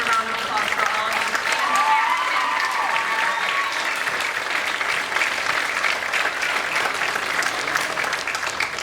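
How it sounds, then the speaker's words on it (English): Audience applause for award recipients at a Sandy Creek awards ceremony, steady and dense for the full stretch, with crowd voices and cheers mixed in beneath the clapping. "Get an extra round of applause for all of you."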